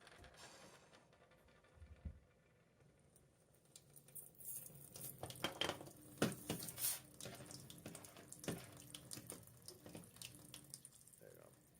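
A hot gold torc, an Iron Age style piece, plunged into water: quiet trickling, splashing and scattered clicks and taps across several seconds, faint overall with a few sharper bursts.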